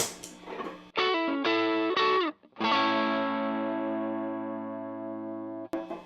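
Electric guitar with single-coil pickups played through a mini Tube Screamer overdrive pedal: a few driven stabs and short phrases, then a long ringing sustained chord that decays, close and without talk.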